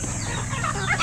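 Fighting roosters kept for cockfighting cluck and murmur at close range on a Philippine farm, a dense, steady chorus of fowl sounds with no talk.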